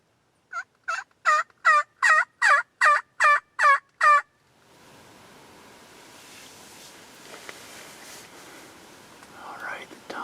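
A wild turkey tom strutting in the Indiana woods gobbles in a rapid burst of about nine sharp, loud, evenly spaced notes, followed by quiet outdoor rustling and faint background noise.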